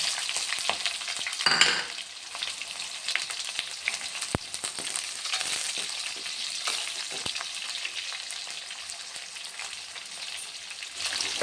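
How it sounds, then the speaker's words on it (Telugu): Chopped onions fry in a pan of tempering with green chillies, dried red chillies and curry leaves, giving a steady close sizzle with scraping stir strokes and occasional clicks, no voices. "ఇప్పుడు ఆనియన్స్ వేసేసుకున్నాం, కట్ చేసుకున్నాం."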